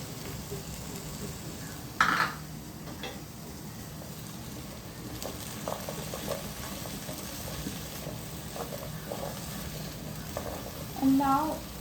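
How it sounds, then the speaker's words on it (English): Chopped beans frying in a pan for a Kerala vegetable stew, with a low, even sizzle running throughout and a few clinks of a utensil against the pan, one near the start and a louder burst at the close. "Now we're going to put the chopped beans."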